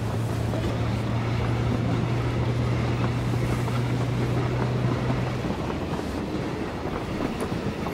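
Train rolling past in PUBG, a continuous loud rumbling roar with a steady low hum that drops away partway through, no voices.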